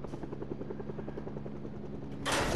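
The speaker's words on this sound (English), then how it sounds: "What is this helicopter doing?" Helicopter in a video game thuds with a steady, fast rotor chop throughout, fairly close, before a sudden burst of loud hissing noise at the end.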